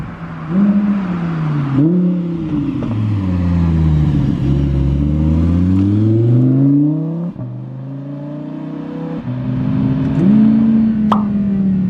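Audi R8 V10 Performance engine revving hard as the car accelerates, a loud, close howl climbing through gears with sharp shift breaks and rising pitch sweeps, ending in another surge.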